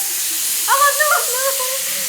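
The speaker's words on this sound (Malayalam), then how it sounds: "കുക്കറിന്റെ വിസിൽ എനിക്ക് അത്ര പേടിയില്ല" A pressure cooker whistle blasting loud and close, a broad continuous hissing steam jet with a brief wavering tonal squeal rising partway through, then settling back to a steady roar.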